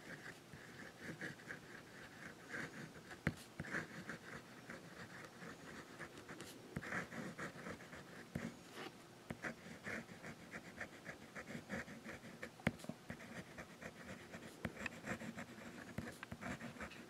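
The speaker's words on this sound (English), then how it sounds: "You can get some reverse writing from it to like a fine" A Monteverde Giant Sequoia fountain pen scratches softly across paper as it writes with the nib reversed, a faint, continuous close-up scraping with small irregular strokes.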